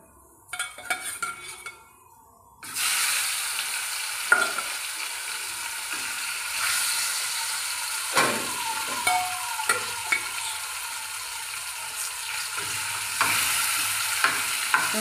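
Fish pieces fry in oil in a home kitchen, a steady close sizzle that rises after a quiet start, with a spatula scraping and stirring the pan in scattered clinks and scrapes and no talk.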